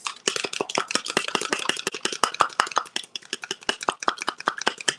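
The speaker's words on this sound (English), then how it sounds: "So the egg white, you beat it up a little bit." A wire whisk beats egg white in a bowl with rapid, steady clicking and tapping strokes, close and crisp, continuing at an even fast rhythm throughout.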